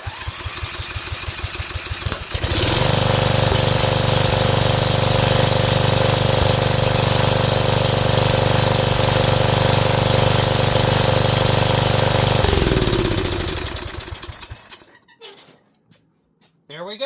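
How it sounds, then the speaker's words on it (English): Briggs & Stratton 12 HP flathead engine running with its shroud removed, a loud, steady, rough mechanical clatter that starts abruptly after a few seconds, holds for about ten seconds, then winds down and stops. "it is a bad idea to run an engine without the shroud on it because of airflow"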